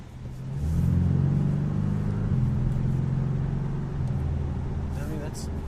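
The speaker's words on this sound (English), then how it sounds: "really hear that engine, get roaring, and you hear the turbo spool up a little bit" A 2017 Porsche 718 Boxster S turbocharged engine roars steadily up close as the cabriolet accelerates, a deep sustained rumble holding for several seconds before easing off, with a brief higher whistle near the end.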